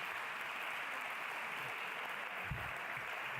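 A crowd at the EPP Political Assembly in Vienna applauds in a steady, dense wash of clapping that holds evenly from start to finish, with no voices standing out.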